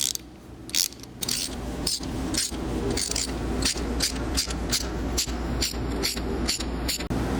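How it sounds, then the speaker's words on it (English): Spark plug extraction tool being turned inside the head of a barn-find Honda CBX motorcycle engine, giving steady ratcheting clicks in a quick regular rhythm, close and fairly loud, with no talk. "Now we run the tool all the way in until it passes the bottom and fully expands it."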